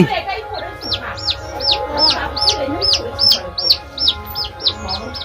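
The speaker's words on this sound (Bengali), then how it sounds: "এ দেখো মুরগি নিচ্ছে" A repeated, regular series of high chick peeps, likely a hen with her chicks. The sound is fairly close and comes in steady bursts over a low background murmur, at a village temple festival in the Sundarbans, South 24 Parganas.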